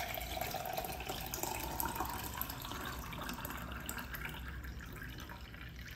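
About 500 ml of water pours steadily into a mix for frozen yogurt, a faint, continuous trickling splash that fades slightly toward the end, with no talk over it.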